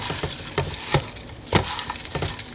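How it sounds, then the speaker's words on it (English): Tortilla chips sizzle in hot onion-flavored oil in a pan, with a steady crackle punctuated by a few sharper bursts as they are tossed and stirred, close and moderately loud. "Now you want to coat the chips in the oil that the onions were in."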